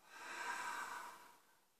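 A single soft exhalation through the nose and mouth during a breathing exercise, a quiet airy hiss that swells and fades over under two seconds, heard close with no talking.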